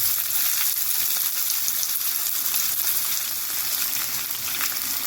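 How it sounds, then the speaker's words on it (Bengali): Chopped onions fry in hot oil for a thin chicken and new potato curry, a steady dense sizzle holding close and loud throughout with no voices. "এবার এর মধ্যে আমরা কুচো পেঁয়াজগুলো ভেজে নেব।"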